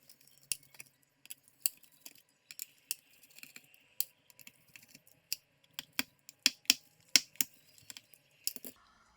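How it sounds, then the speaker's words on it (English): Screws are removed over the CPU of an ASUS ZenBook 14 UM433 laptop, with sharp metallic clicks and taps close by, sparse at first and then quicker and denser, with no talking. "Let's remove the screws on the CPU."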